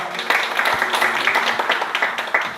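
An audience claps to welcome a speaker at a church youth lecture, with dense, uneven clapping of many hands and a few sharper individual claps standing out, moderately loud and close.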